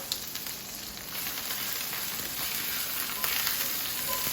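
Ribeye steak sears in a hot pan with a steady, loud sizzle that builds slightly and holds constant throughout, no voices present.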